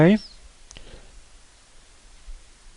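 A computer mouse clicks a couple of times while duplex printing is set up on a PC. The clicks are quiet and sharp, coming just after a brief voice and leaving near silence behind them.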